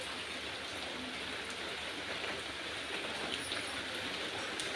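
Heavy, steady downpour during an all-day storm, a dense continuous hiss of rain with no breaks, moderately loud and even throughout, with no voices.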